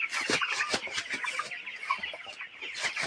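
Broiler chickens on a poultry farm cluck and chatter in a dense, close chorus, with many overlapping short calls and no talk.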